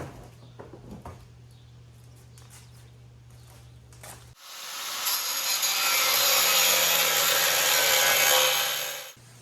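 A power tool cuts an access hole into the rusty frame of a Honda CRX. After a few seconds of quieter shop noise, it starts abruptly and whines steadily and loudly up close for about five seconds before stopping.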